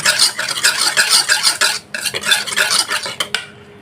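Lumpia wrapper batter is stirred briskly in a bowl, with rapid rhythmic scraping and clinking of a utensil against the sides, close and loud, pausing briefly midway.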